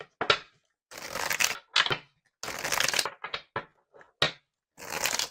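Several bursts of crisp riffling and snapping, like a deck of cards being shuffled, in short separated bouts with brief silences between them.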